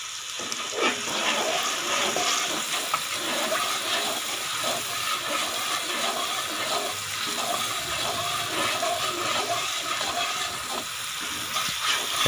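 Crushed red chili fries in hot oil in a pot of chicken beetroot pulao, giving a dense, steady sizzle that hisses continuously, with occasional light scrapes of a stirring spoon.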